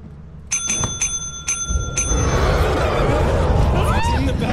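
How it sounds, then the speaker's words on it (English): A counter bell at the company desk in the video game Lethal Company is struck four times in quick, evenly spaced dings, bright and close, before a rising wash of game noise and ambience covers the rest. "we're gonna ding this bell until the slot opens"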